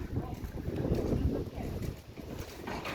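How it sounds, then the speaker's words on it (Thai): Strong wind gusting and buffeting outdoors, a steady loud rushing roar with microphone rumble that rises and falls over a few seconds, with no clear voices over it. "โอ้ลมแรงมากเลย"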